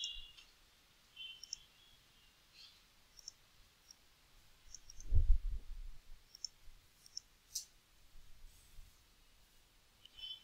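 Computer mouse clicks, faint sharp single clicks scattered irregularly across a quiet room, with one soft low thump partway through.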